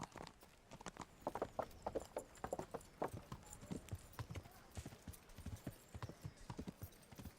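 Steady clip-clop of horse hooves at a walking pace, fairly close, with a brief snort or whinny-like sound mixed in, in the video game Kingdom Come: Deliverance.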